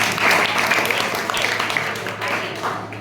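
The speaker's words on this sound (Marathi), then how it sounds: "व्हेरी गुड, टाळ्या वाजवा त्यांच्यासाठी." Students in a secondary school classroom clap together in a loud, dense burst of applause that carries on for several seconds, with some voices mixed in.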